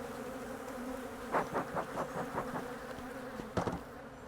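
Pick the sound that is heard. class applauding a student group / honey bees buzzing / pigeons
honey bees buzzing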